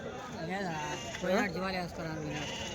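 Rams bleating at a weekly sheep and ram market in Kadiri, with several wavering, close bleats that rise and fall in pitch across the clip, joined by a louder cry in the middle.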